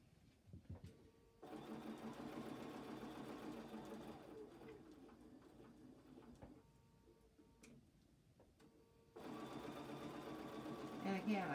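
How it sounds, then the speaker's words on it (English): Sewing machine stitching a denim and flannel ravioli quilt, running in steady rapid bursts with a short pause mid-clip, close and fairly loud; a person talks quietly around the stitching. "I just overstitched my previous seam line"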